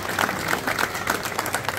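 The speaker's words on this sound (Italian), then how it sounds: "Un applauso alla confraternita della Mercedes." Crowd applause for a church confraternity during the Maria Santissima della Cintura street procession in Palermo, a steady outdoor patter of many hands clapping at moderate distance.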